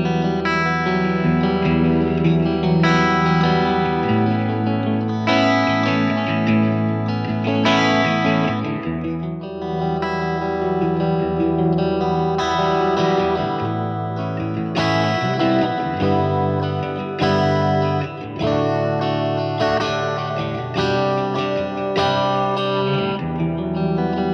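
A distorted electric guitar through a Hughes & Kettner Tubemeister Deluxe 40 tube amp plays sustained chords and notes drenched in lush Strymon Big Sky reverb, ringing tails blending between phrases, loud and alone.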